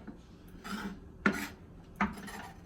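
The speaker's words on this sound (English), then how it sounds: "This is just a sweet onion. Just gonna dice it up." Knife dicing a sweet onion on a cutting board for beef stroganoff. A few separate chops and scraping strokes sound close and fairly quiet, with sharp knocks where the blade meets the board, and no voices.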